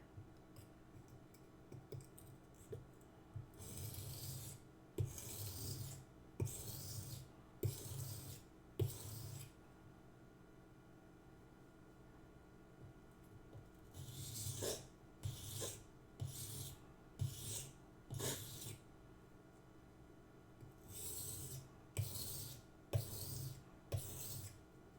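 A kitchen knife is sharpened to remove burrs, with repeated short rasping strokes in bursts of several passes separated by pauses, faint and close, with no talking over it.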